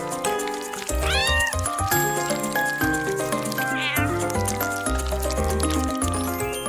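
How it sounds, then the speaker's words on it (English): A kitten meowing repeatedly, with high, plaintive cries and rising squeaks close up, layered over busy background music. "Oh, what a cute little kitten."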